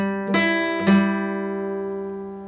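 Two plucked notes on a guitar from a guitar lesson, struck about half a second apart, each ringing on and fading slowly, close and clear with no talking.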